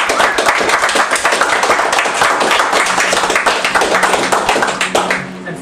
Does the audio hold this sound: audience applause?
yes